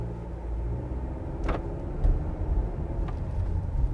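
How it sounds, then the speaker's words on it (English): A 2023 Honda Accord EX Turbo accelerating in sport mode, heard from inside as a steady, loud low engine rumble that swells slightly partway through, with no voices. "let's do a slight acceleration run here really quick, just because we can"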